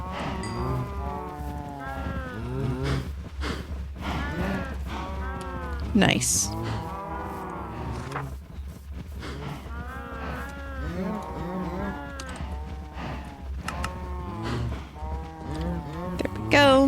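Repeated overlapping moos from Minecraft cows fill the scene, long lowing calls coming in clusters nearby, with a brief voice speaking over them partway through.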